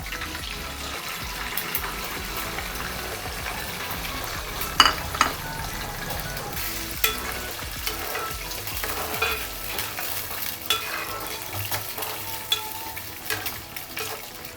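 Eggs hit a hot pan with curry leaves and green chillies while egg fried rice is being made, giving a steady soft sizzle that is quiet and close, broken by a few sharp clinks of stirring.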